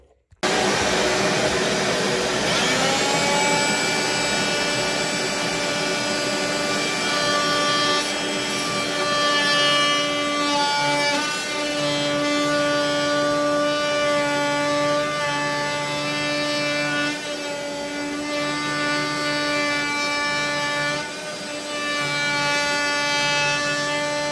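An oscillating multi-tool cuts into installed shower tile with a shop vac running, producing a steady loud buzzing whine with a rasping grind that wavers slightly as pressure shifts, continuous for over twenty seconds.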